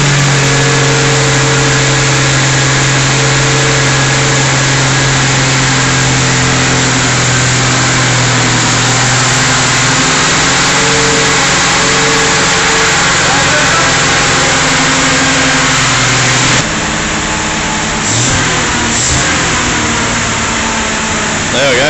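Reconditioned engine in a 1964 XM Ford Falcon running after its first start, a loud steady idle with rising revs, then rougher revving toward the end, with voices speaking over it.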